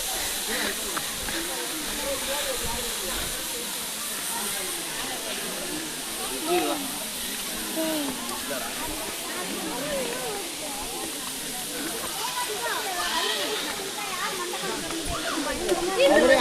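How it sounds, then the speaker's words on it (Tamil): Steady broadband rush of water pouring over hidden falls in Andhra Pradesh, continuous and fairly loud throughout with a crowd of visitors nearby. "தண்ணி வருது, கொஞ்சம் லெவலாக தான் வருதுன்னு நினைக்கிறேன்."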